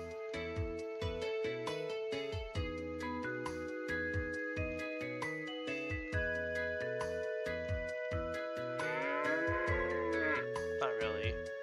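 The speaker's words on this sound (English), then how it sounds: "That one's a confused moo." Cartoonish cow moos from the Breath of Fire III video game, sounding over steady tonal game music with bouncing rhythmic notes; the moo stands out near the end, fairly loud and warbling.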